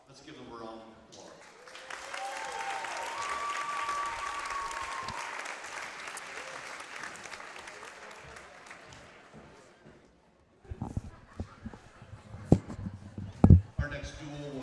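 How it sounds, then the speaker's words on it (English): A crowd at a high school wrestling meet claps for several seconds, the applause swelling and then fading. After a near pause come scattered bumps, thuds and footsteps, with a tonal sound like a voice over a loudspeaker early on. "Let's give them a round of applause."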